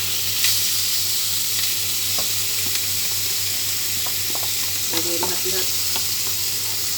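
Steady loud sizzling of milkfish dry-frying in a pan, with occasional pops and utensil clinks, and a brief spoken phrase.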